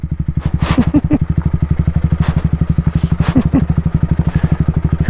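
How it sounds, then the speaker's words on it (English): A motorbike engine thumps in a fast, even rhythm up close as it crosses a bridge in the Dalat mountains of Vietnam, with occasional clatter and a few brief higher squeaks. "they're telling me I can cross this bridge on this motorbike"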